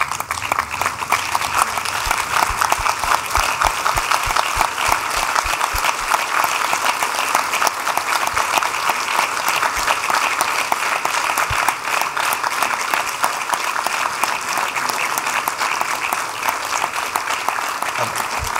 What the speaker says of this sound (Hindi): मैं चाहूँगा कि प्लीज़ आप लोग एक बार खड़े होकर उनके लिए तालियां बजाएं,